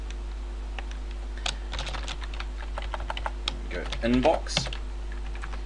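Computer keyboard typing in short irregular bursts of clicks while entering a file name for a PHP private messenger script, with a person speaking briefly over it near the end.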